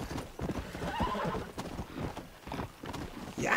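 Hooves clip-clop steadily on a ridden horse in the Western game Red Dead Redemption, with a whinny partway through, close and fairly loud throughout.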